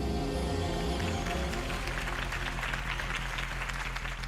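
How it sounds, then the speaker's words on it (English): Crowd applause following a campaign speech for Harvey Dent in Batman: The Telltale Series, a steady wash of clapping over sustained music-like tones, fairly loud and continuous throughout. "If only Mr. Wayne, my campaign's largest backer, could have heard that applause"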